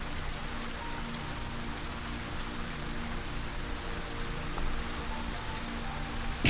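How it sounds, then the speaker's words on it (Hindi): Heavy rain falls steadily and densely on a surface, a continuous wash of patter at close range with no voices over it. "सो आई एम सॉरी अगर आपको बारिश का भी वॉइस आ रहा है"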